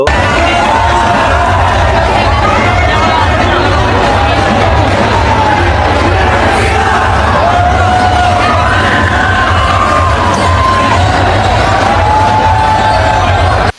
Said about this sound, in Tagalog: Sigawan pa din yung tao, nakatutok pa din po sa basketball